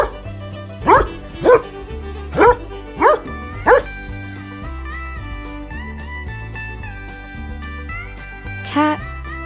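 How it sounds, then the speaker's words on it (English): A dog barks five times in a quick, regular series, then once more a few seconds later, all over cheerful background music. "Dog."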